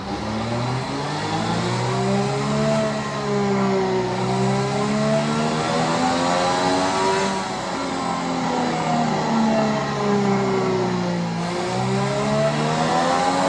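Race car engine in a racing video game on Google Stadia, a loud continuous whine that rises and falls through gear changes and revs, heard alone without talk.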